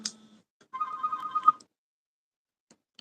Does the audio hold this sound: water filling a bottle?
no